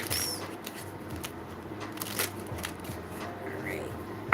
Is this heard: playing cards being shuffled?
yes